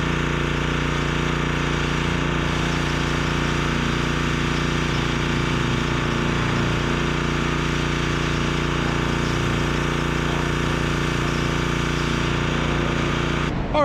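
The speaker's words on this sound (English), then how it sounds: "I have a feeling what I'm gonna need to do is fire up this pressure washer and blast this stuff out." Pressure washer engine running to blast rust out of a diesel fuel tank, a loud, steady mechanical drone with a constant hum throughout, stopping right at the end.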